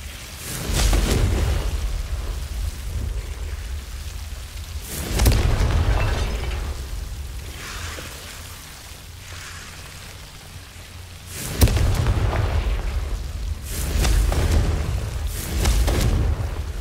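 Spell explosions in the Hogwarts Legacy video game burst out as loud booming blasts, about four of them spaced a few seconds apart, each followed by a rumbling, crackling tail over steady ambient noise.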